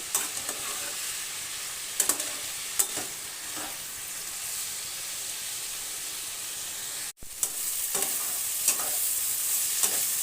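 Ridge gourd cooked with poppy seeds sizzles steadily as its released water cooks off, with a few sharp stirring scrapes and a brief cut near the middle, close and clear with no talking.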